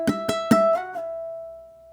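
A ukulele picks out a short fingerstyle etude phrase over a three-chord pattern: three plucked notes in quick succession, then lighter notes trailing off into one sustained ringing tone, close and clear.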